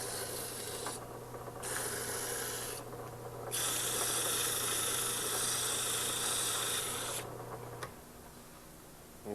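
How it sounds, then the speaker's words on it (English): Steady, rasping sandpaper strokes on the edges of a wood-turned ring, close and fairly loud, coming in long bursts with brief pauses between them. "So you just concentrate your sanding on those edges."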